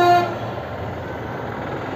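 Horn of a Honda Shine 100 motorcycle sounded once up close, a short bright toot at the very start that gives way to steady background noise.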